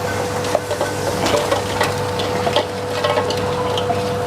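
Fried chicken goes into butter sauce in a pan and is stirred, giving a steady close sizzle with scattered scrapes and clicks of the utensil against the pan.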